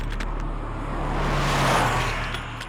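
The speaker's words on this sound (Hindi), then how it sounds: "ये प्रियंका चोपड़ा की गाड़ी है।" Priyanka Chopra's car rolls past on a road, its engine and tire noise swelling to a peak near the middle and then easing away.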